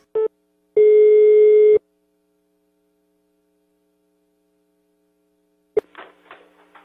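A telephone busy tone after a dropped call: a short beep, then a longer steady electronic tone, followed by silence and a faint burst of line noise.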